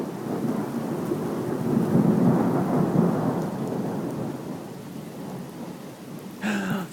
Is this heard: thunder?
yes